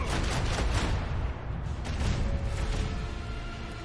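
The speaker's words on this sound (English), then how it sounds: "Macro cannons! Volley!" A macro cannon salvo in the Warhammer 40,000 game Rogue Trader makes a dense, sustained roar of heavy booming blasts that runs loud and rumbling through the whole stretch.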